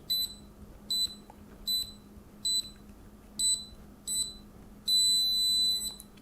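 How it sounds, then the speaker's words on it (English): A fingerprint smart padlock beeps in a rhythmic series of short, clear electronic chirps, then gives one longer, sustained beep when the fingerprint is registered, close and alone in a quiet room. "When we get that long beep, that means it's registered it."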